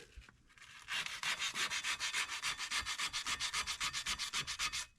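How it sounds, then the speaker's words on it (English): Sandpaper rubs quickly back and forth over brake parts on a Mercedes W124, producing rapid, regular rasping strokes at close range, roughly five to six per second, after a brief quiet start. "maybe get a little bit of this off with sandpaper"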